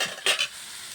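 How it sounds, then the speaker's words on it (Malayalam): Chopped ginger frying slowly in hot oil for a Kerala Onam sadya ginger curry, a soft steady sizzle with a brief louder stir-and-clatter burst near the start, close and alone. "നമുക്ക് നമ്മുടെ ഇഞ്ചി ഒന്ന് പതിയെ മൂപ്പിച്ച് എടുക്കാം"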